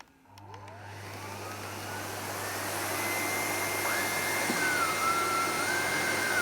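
A Miele vacuum cleaner runs on white carpet, its motor whining up to a loud, steady roar with shifting pitch as it passes over the pile, close and without speech.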